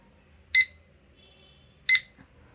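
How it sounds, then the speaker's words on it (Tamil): Study timer alarm giving two short, loud electronic beeps about 1.3 seconds apart, with quiet gaps between them and no voices. "இப்போ இந்த கீன்னு சவுண்டு வர்றது வந்து பிடிக்கல எனக்கு"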